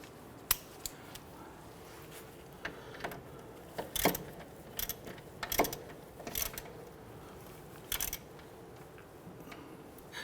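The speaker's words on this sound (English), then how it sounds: "Let's go ahead and tighten down the front bolt." A ratchet clicking in short bursts tightens the front sway bar bushing bolt on a 2006–2014 Honda Ridgeline, sharp close ticks spaced irregularly over a quiet background.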